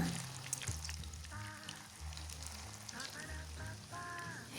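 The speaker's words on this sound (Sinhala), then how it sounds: "මම මේ විදිහට තෙල් එකට දාලා බැද ගන්නවා" Potato snacks frying in hot oil, a steady close sizzle and crackle with occasional stirring clinks, while a voice speaks intermittently over it.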